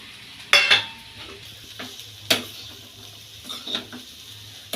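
Crumbled chapati churma with roasted peanuts being stirred in a frying pan, a few sharp spatula scrapes and clinks against the metal over a faint, low sizzle, close by and without speech.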